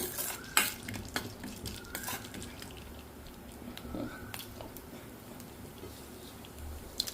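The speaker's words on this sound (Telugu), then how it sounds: "పోపు గింజలు కొంచెం వేగుతున్నప్పుడు" Tempering seeds fry in a little hot oil for semiya pulihora, a soft steady sizzle that runs throughout, with spatula scrapes and clinks against the pan.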